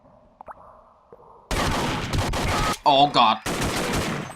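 Gunfire in the Stargate TC SG-1 Remod video game breaks out in a loud rattling burst of rapid shots, briefly broken by a speaking voice before the firing resumes; faint quieter sounds precede it.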